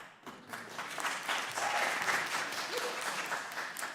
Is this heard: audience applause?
yes